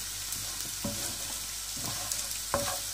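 Egg bhurji frying in oil on a high flame, giving a steady crackling sizzle throughout with a few sharp spatula scrapes and taps at intervals, no voices.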